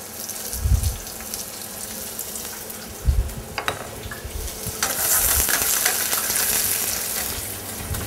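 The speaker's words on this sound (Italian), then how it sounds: "In un tegame mettiamo 2 cucchiai di olio di oliva e poniamo a cuocere prima le zucchine tagliate sottilmente." Thinly sliced zucchini fry in two spoonfuls of olive oil in a pan, giving a steady, close sizzle that swells louder toward the end, with a few low knocks of stirring along the way.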